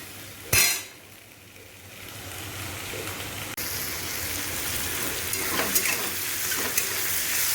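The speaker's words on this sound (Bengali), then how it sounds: "ভাজা হচ্ছে" Onion and spices frying in a pan in a home kitchen with a steady loud sizzle. A utensil stirs the pan, and a sharp clank of metal comes near the start.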